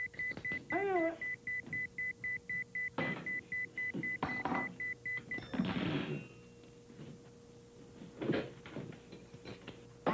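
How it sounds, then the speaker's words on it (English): A run of short electronic beeps at a steady rhythm sounds in a room, followed by a few louder clunks and a knocking sound, with quieter stretches after. "Whenever I'm happy, close to having a good time, I hear beep, beep, beep."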